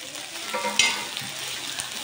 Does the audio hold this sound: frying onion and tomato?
yes